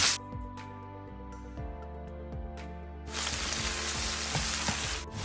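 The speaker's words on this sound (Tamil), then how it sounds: "பொடியாக நறுக்கின வெங்காயத்தை போட்டு நம்ம கொஞ்சம் வதக்குறோம்." Chopped onions sizzle steadily in hot oil, growing louder midway, with occasional clinks of a utensil stirring the pan.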